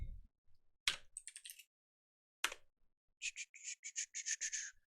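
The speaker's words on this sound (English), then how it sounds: "I am typing things in a window you can't see." Quiet typing on a computer keyboard: scattered key clicks, a couple of louder taps, then a quick run of rapid keystrokes, with no one talking.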